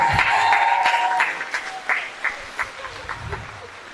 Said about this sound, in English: Round of applause for the staff of Hosanna Prep.